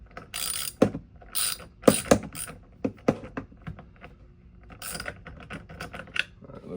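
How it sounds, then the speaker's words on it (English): A 13 mm socket wrench ratchets on the head of an EGO string trimmer, giving bursts of sharp, close clicking separated by short pauses; there is no talk. "we're gonna take our 13 millimeter socket. We're gonna hold this down."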